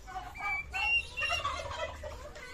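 Turkeys gobble in rapid, warbling bursts, several calls overlapping at moderate distance against a quiet outdoor background.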